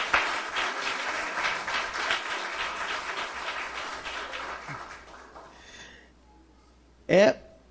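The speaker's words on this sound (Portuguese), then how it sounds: "Você pode aplaudir ao Senhor?" Congregation applauding in a Methodist church service, broad sustained clapping that gradually fades out, followed by a short spoken voice near the end.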